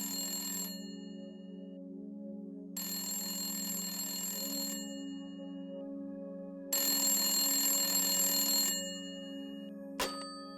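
A telephone rings in repeated bursts, three long trilling rings separated by pauses over a steady low hum, ending with a sharp click as it is picked up; no talking.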